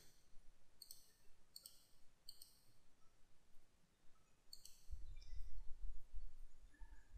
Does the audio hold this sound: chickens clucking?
no